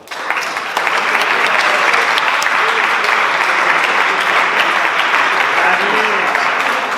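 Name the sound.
audience applause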